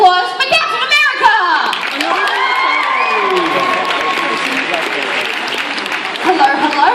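Lively convention crowd applause and cheering for a Captain America cosplayer at a cosplay event, with shouts, whoops and children's voices mixed in, the clapping swelling again toward the end.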